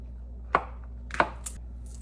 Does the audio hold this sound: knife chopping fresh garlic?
yes